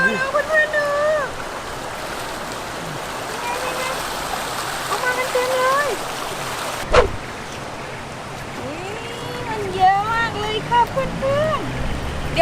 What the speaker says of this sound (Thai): ไม่น่าเชื่อเลยว่าน้ำไหลแรงขนาดนี้จะมีปลานะคะ